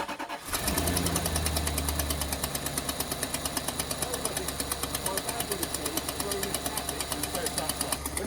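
A car engine cranks and catches, then idles with a steady, rhythmic ticking knock running through it; the noise is a known fault near the exhaust manifold that persists over the engine's drone.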